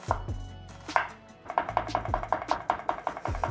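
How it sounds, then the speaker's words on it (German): A knife chopping an onion thin and small on a board: a few slower cuts, then a fast, even run of crisp thuds, close and clear with nothing else. "Die Zwiebel verhältnismäßig dünn und klein runter"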